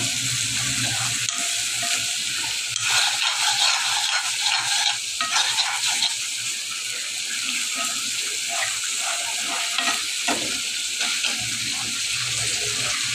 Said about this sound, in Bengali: তো এখন আমি ভাজিটা বসা দিচ্ছি। তো বন্ধুরা দেখো আমার তেল দিয়ে দিয়েছি, কাঁকরোল ভাজির জন্য তেল দিয়ে দিয়েছি।